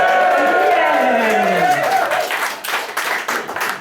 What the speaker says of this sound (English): Let's have a cheer for the National Health Service.